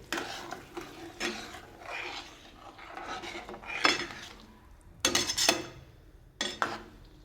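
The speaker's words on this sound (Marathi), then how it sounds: "मिक्स करून घ्यायचं आहे हे." A metal spoon stirs whole masoor lentil pulao ingredients in a pan, with repeated close scraping and clanking strokes in an irregular rhythm.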